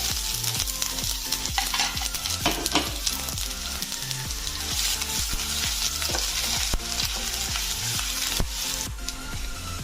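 Dried chilli, cumin, mustard and coriander seeds with chopped ginger fry in hot oil for a vegetarian okra and potato curry, producing a dense crackling sizzle with rapid rhythmic stirring knocks throughout, close and loud.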